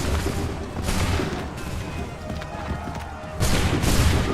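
A musket volley rings out in the Assassin's Creed 3 video game, with broad booming bursts of massed gunfire that rise and fade, returning loudly near the end over a rumbling battlefield.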